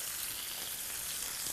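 Pork chops lightly browning in a frying pan give off a steady, even sizzle, close and continuous with no voices.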